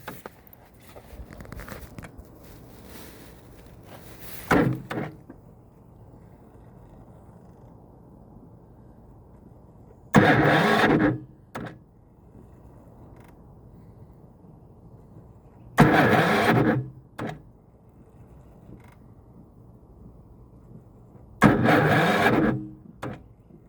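A BE 7500ID generator cranks repeatedly in freezing cold at 0 degrees without starting. Its starter grinds in loud bursts of about a second, separated by quiet pauses with a low background hum.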